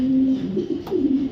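A male racing pigeon coos nearby in two low, warbling phrases separated by a short pause and a faint rustle, heard alone at moderate volume.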